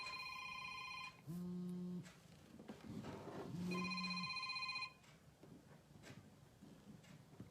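A telephone rings during a live stream call, two long electronic ring bursts separated by a pause, fairly loud and close, with faint room noise between them.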